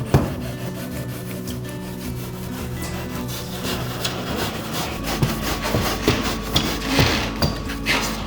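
Factory-cut styrofoam insulation boards, sized slightly wider than the gap, pressed firmly by foot between roof rafters during house framing, giving a steady scraping, rubbing crunch with irregular creaks and squeaks, close and continuous.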